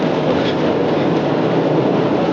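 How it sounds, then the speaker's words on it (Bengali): An amusement park metro-style train rumbles steadily past overhead, a continuous broadband roar with faint rattling, loud and unbroken throughout. "এই উপর দিয়ে মেট্রো রেলের মতো ট্রেন যাচ্ছে"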